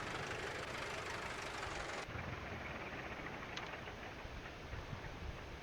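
A steady tractor engine drone in Farming Simulator 19 runs continuously with a low rumbling hum and faint knocking, level and unchanging throughout.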